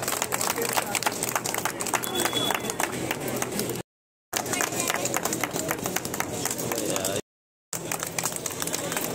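An audience at a village health camp in Kaladhungi claps in a sustained, busy patter of many hands, fairly even in loudness, briefly cut by two short gaps.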